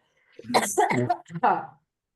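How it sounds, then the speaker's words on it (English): A few harsh, throaty coughs in quick succession, close and fairly loud, with no talking around them. "why do I have to cough so bad?"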